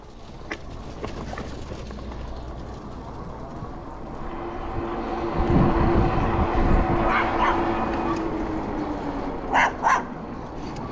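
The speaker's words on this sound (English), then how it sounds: "Old cattle dog getting upset." Two old cattle dogs barking behind a fence line in an East Texas train town, a run of sharp barks and yips ringing out at moderate distance over a steady low background rumble.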